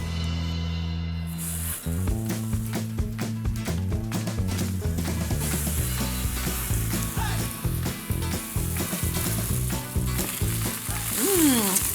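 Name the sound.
homemade hamburgers sizzling in a pan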